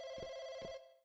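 A telephone rings in the video game Firework, a single short electronic ring with two quick pulses that cuts off abruptly.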